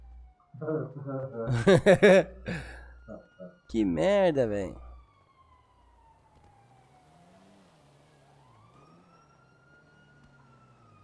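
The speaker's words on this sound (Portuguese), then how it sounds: "vai ficar enchendo o saco, aquele barulho de sirene" Police siren in the video game GTA V: a faint, wavering wail rises and falls in the background after a man's loud, excited talking stops, then continues alone and quietly.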